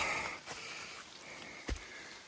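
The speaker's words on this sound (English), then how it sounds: "And it's raining." Steady rain falls around hikers climbing a long, steep mountain grade in the dark, a soft continuous hiss with scattered drops and one brief louder thump near the end.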